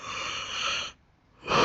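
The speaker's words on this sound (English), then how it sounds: "with another yawn, with another big yawn" A big, breathy yawn from one person, close and airy, drawn out for nearly a second before a brief pause and a second rising inhale.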